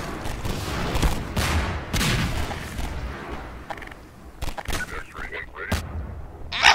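Rocket and weapon fire from Half-Life 2 gameplay, a run of loud booming blasts and crackling shots in quick bursts, some overlapping, with a voice talking over parts of it.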